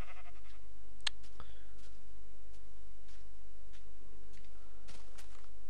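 A sheep in the video game Minecraft lets out a few short bleats over a steady, noisy background hum, with faint clicks and steps scattered throughout.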